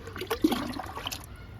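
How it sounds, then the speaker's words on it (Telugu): Liquid fertilizer poured from a container onto a mulberry plant in a home garden, a brief close splashing gurgle of water hitting leaves and soil, lasting under two seconds. "డబ్బాల పోస్తున్నా మల్బరీ మొక్కకి ఇచ్చేద్దాము లిక్విడ్ని"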